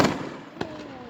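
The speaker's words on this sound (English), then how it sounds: "Look how close we are to the fireworks." Fireworks at a Fourth of July show burst close by: a loud boom at the start, then a sharp second crack with a trailing whistle and crackle.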